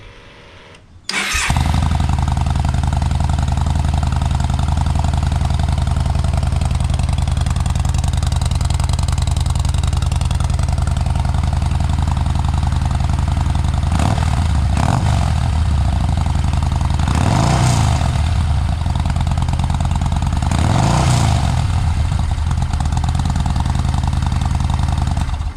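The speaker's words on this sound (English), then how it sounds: "So this is the before the exhaust changed. I'll just start it up." A Yamaha Bolt motorcycle with its stock exhaust starts up and settles into a steady, close idle, a low throbbing rumble that holds for the rest of the clip, with a few brief revs or swells near the end.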